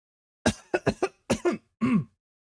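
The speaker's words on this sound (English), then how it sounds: "apparently some coughs need to go and come back" A run of close, sharp coughs in quick bursts, ending with one longer, rougher cough, with silence around them.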